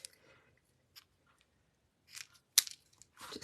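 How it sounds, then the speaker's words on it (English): Scissors snip through ribbon bow loops in a few short, sharp, close cuts separated by quiet pauses, with small handling rustles between them. "bring in my scissors"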